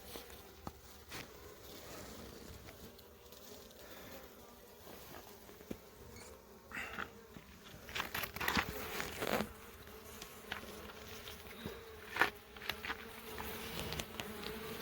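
A dense swarm of bees drones steadily up close, with scattered rustles and taps among the buzzing and no talking.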